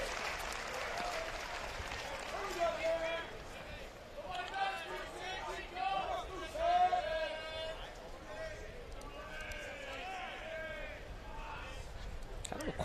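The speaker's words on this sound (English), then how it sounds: "Kind of a quiet crowd right now." A subdued crowd at Swayze Field during a college baseball game between Arkansas and Ole Miss, a low, steady murmur of many voices with scattered claps and nearby chatter.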